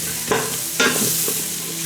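Onions sprinkled with salt sauté in an Instant Pot on sauté mode. A close, constant sizzle is broken by two sharp scraping stirs of a utensil against the pot.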